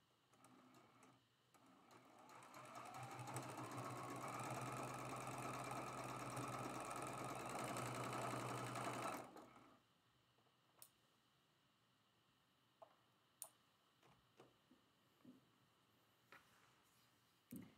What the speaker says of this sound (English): Flip it and sew it.